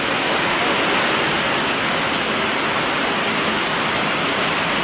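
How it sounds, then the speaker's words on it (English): Heavy rain pours down steadily outdoors, a dense, even hiss of drops that stays loud and unbroken throughout, with no voices. "you can probably hear the rain falling"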